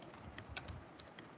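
Soft, quick keystrokes on a computer keyboard, an irregular run of light taps close by with no talk.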